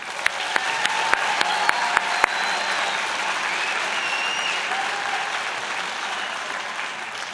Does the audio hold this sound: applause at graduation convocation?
yes